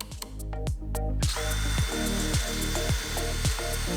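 A power drill bores into wood through a hardware jig while installing drawer pulls on a vintage end table, with a few short trigger bursts followed by a steady whining run that pulses rhythmically under load.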